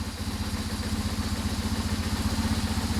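A BMW 1150GS motorcycle engine idles while warming up, a steady rhythmic low thumping pulse close to the listener, even and unbroken throughout with no voices.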